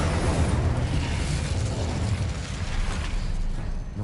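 Incendio, the fire spell in Hogwarts Legacy, goes off as a loud, close burst with a rumbling whoosh and crackling roar that slowly eases over a few seconds.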